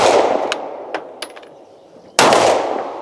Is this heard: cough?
no